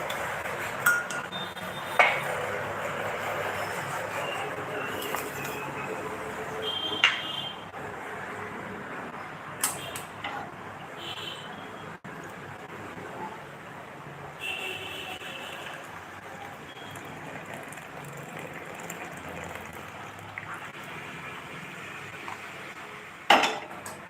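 Basundi tea is strained in a kitchen, with scattered clinks and knocks of metal utensils and a cup against vessels over a faint steady background, sharp clatters now and then, no talking.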